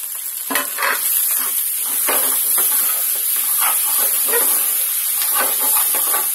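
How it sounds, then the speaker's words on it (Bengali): Diced tomato hitting scrambled egg in a hot frying pan, a steady close hiss of sizzling with scattered scraping and stirring strokes throughout, no voices present. "এখন আমি এখানে টমেটোটা অ্যাড করে দেবো"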